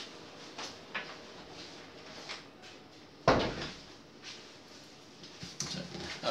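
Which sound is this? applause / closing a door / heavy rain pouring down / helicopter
closing a door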